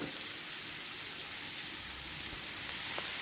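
Onions sautéing in a pan for a squid curry, a steady soft sizzle and hiss throughout, faint and even with no talking.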